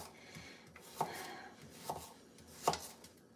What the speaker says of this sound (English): Just cutting up the carrots for now